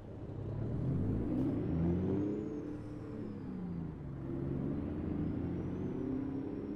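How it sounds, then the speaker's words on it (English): A malfunctioning truck engine in American Truck Simulator drones steadily and loudly, its low rumbling tone rising and falling through the whole stretch with no voices over it. "My engine is malfunctioning."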